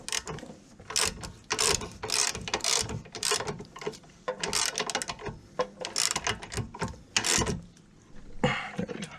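A ratchet wrench tightens bolts on a car's camber arms in uneven bursts of quick, close mechanical clicking, with short pauses between strokes and no talking.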